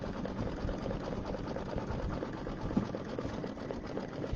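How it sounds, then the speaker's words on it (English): A sewing machine runs fast through fabric while stitching an Easter egg zipper bag, a continuous close mechanical whirr with a rapid, even chatter. "I do kind of sew fast, don't I?"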